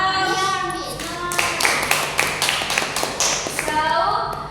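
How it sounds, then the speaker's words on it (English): Students in a classroom give a short burst of applause: a run of irregular, close claps over a steady room hum, with voices speaking before and after. "Give a applause."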